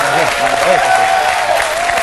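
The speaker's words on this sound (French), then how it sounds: "Là on applaudit, là on applaudit." Steady applause from an audience fills the clip, with voices mixed in over the clapping.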